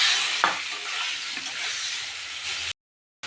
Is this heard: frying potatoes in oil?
yes